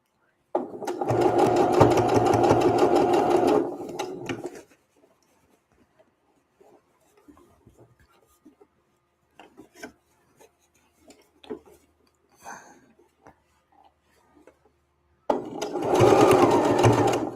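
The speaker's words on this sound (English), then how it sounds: "Got that first back stitch in." A sewing machine stitches a back stitch while sleeves are added to a garment, running in a steady, close whirring burst of about four seconds, then quiet handling noises and faint movement, before a second burst of stitching starts.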